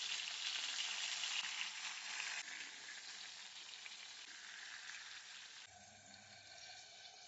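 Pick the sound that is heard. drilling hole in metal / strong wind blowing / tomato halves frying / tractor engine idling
tomato halves frying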